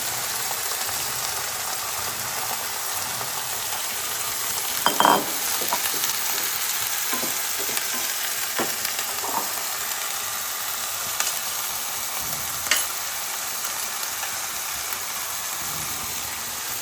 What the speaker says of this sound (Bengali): পেঁয়াজটা আমার মোটামুটি ভাজা হচ্ছে